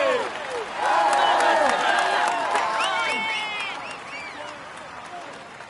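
Crowd applause and cheering at a podium ceremony in a Tour de France 2018 video game on PS4, a loud swell of clapping and whoops that peaks early, then slowly fades.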